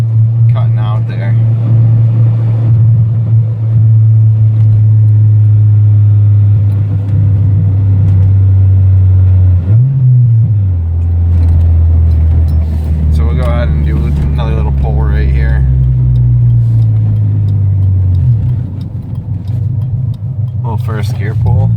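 Car engine cutting out around 5000 rpm during a first-gear acceleration pull, with a possible main relay fault: a loud, steady low drone that dips and stumbles partway through, then resumes briefly before tailing off, with a voice talking over it.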